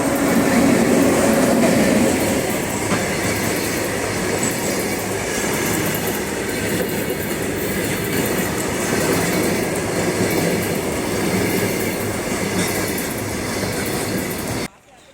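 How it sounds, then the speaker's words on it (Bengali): A train crossing the Farakka Barrage bridge makes a loud, close, continuous rumble with rattling wheel clatter and faint squeal, holding steady for about fifteen seconds before stopping abruptly. "ট্রেন চলে আসছে।"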